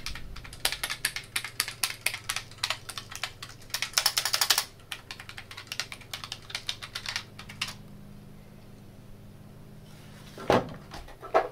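Rapid clattering keystrokes on a TRS-80 CoCo 2 computer keyboard, dense bursts of typing close up, then a pause and a couple of final clacks.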